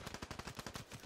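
Rapid automatic gunfire from the video game Black Ops 3 rattles off in a fast, even burst of about a dozen sharp shots, crisp and faint.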